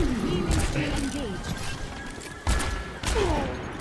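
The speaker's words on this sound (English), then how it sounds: "Who the hell is shooting me?" Rapid bursts of gunfire in the Overwatch shooter game, with loud sharp shots near 2.5 and 3.0 seconds, mixed under busy game effects and someone talking.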